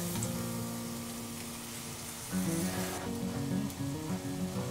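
Meat sizzling and frying in a pan with garlic and onions, a steady close crackle that swells louder partway through as ingredients are stirred.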